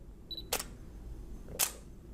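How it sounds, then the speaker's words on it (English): A single-lens reflex camera shutter set to about 1 second fires, giving a sharp click as it opens, a quiet gap of roughly a second, then a second click as it closes, close and distinct. "That shutter is actually opening and then closing"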